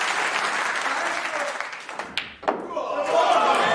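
Crucible Theatre crowd applauding Ronnie O'Sullivan's back-to-back centuries at the 2023 World Snooker Championship: dense, sustained clapping across the hall, dipping briefly before swelling again, with a commentator talking over it.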